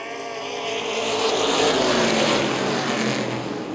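Late model race cars at Baer Field Speedway roar past on the restart, a loud full engine blare that swells to a peak mid-pass and stays heavy as the pack goes by.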